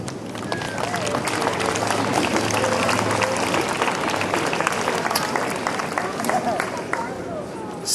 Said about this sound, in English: please give yourself a round of applause for being here.